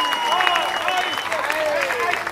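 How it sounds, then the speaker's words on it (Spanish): Applause at a soapbox (carrilanas) race prize ceremony in Esteiro, steady clapping from a gathered crowd with voices over it and bits of chatter throughout. "forte o aplauso"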